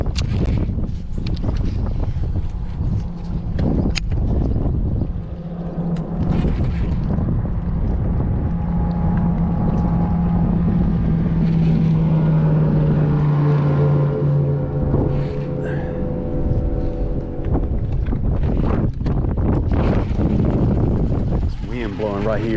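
Wind gusting across Lake Gaston during bass fishing near docks, heavy steady roar and buffeting throughout, with a low engine drone rising midway and someone talking over it.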